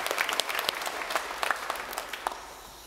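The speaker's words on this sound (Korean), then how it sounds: "박수 한번 해주세요." Applause from a church congregation after a choir and orchestra performance, a steady patter of many hands clapping with sharp individual claps standing out, moderately loud and continuous with no voices over it.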